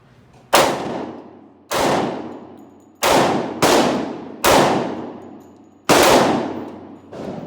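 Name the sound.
gunshots from Smith & Wesson M&P 2.0 10mm pistol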